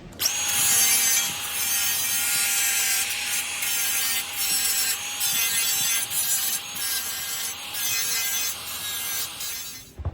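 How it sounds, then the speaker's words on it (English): A flap disc grinds down material on an INEOS to make room for a hidden light bar, producing a continuous, close abrasive rasp with a steady whining tone for about ten seconds. "This is a flap disc. It's one of the greatest inventions ever."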